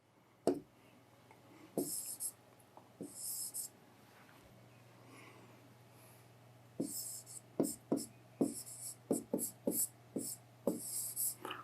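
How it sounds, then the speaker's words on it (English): A pen or marker scratches out a maths formula on a surface, clusters of close, sharp strokes and taps with a quiet gap in the middle, over a faint steady hum. "Write the formula."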